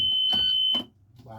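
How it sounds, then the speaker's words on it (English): An emergency window alarm blares a loud, steady high-pitched tone as the window is opened, holding for under a second before cutting off, with brief speech-like sounds around it. "Alarm sounds when we open it."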